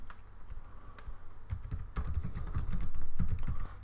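Quick keystrokes tap out on a computer keyboard in short bursts, close and clear, with the clicks getting denser and slightly louder toward the end.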